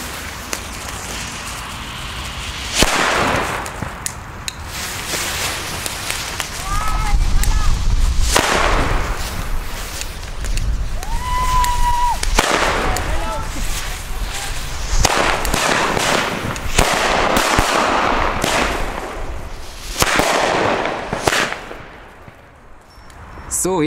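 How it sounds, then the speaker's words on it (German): Xplode Hirtenböller firecrackers burst outdoors in a string of loud, sharp bangs spread over several seconds, some with echo and crackle, and brief talk comes between them. "Auch ein Oldschool-Böller vom letzten Jahr, eine Neuheit. Explode Hirtenböller."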